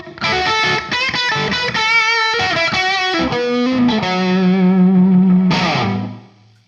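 A semi-hollow electric guitar run through distortion and chorus effects plays a quick lead phrase, then long sustained notes that end on a final struck chord fading out, loud and with no talking.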